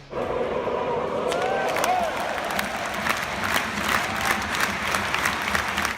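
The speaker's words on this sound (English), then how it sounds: "the famous Rapid Viertelstande, the last 15 minutes of relentless clapping" Rapid Wien football fans keep up a relentless, dense wall of clapping during the Rapid Viertelstunde, the final quarter hour of a match, with crowd noise and shouts mixed in. It sounds continuous and loud.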